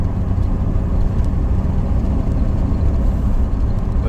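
A car drives along a road and turns around, its engine giving a steady, loud, low rumble with road noise throughout and no voices.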